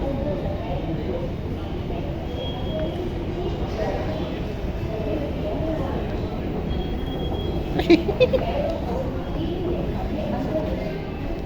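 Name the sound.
metro train at the platform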